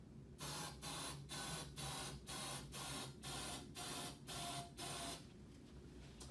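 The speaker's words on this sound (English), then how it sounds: "we're going to add 10 sprays of hairspray" Ten even bursts of hairspray hiss into a bottle, each about a third of a second with short gaps between, steady and close, ending with a quick clunk as the bottle is capped.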